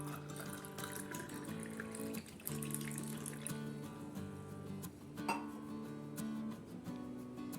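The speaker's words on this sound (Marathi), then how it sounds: "हा गाळून घेतलेला शरबत टाकायचा" Strained fennel (saunf) sharbat is poured into a container, a steady liquid stream with occasional glassy clinks, heard up close and alone.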